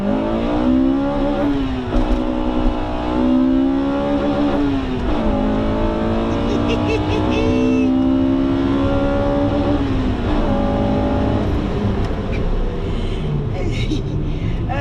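A Honda Integra Type R engine revs and accelerates loudly toward 9,000 rpm, its pitch climbing and falling in waves across the run, heard from close by.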